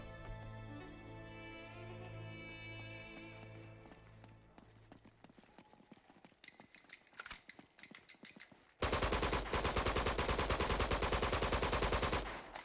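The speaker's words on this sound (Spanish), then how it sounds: "¡Oh! Ahí está la ametralladora." Rapid bursts of machine gun fire in Uncharted 2 crackle in quick rhythmic volleys after music fades, then a loud, dense roar of sustained gunfire.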